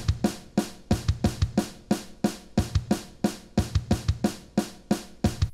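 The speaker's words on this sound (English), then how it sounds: "the kick introduces this this rhythm that is basically played not throughout the entire song" A kick drum pattern thumps in a syncopated, repeating rhythm under steady cymbal ticks, punchy and close with no talking.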